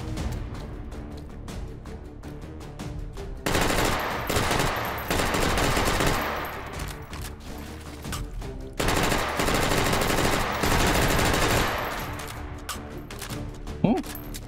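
Submachine gun fire in the VR shooter H3VR, with dense rapid bursts crackling loudly and close, broken by short pauses between volleys.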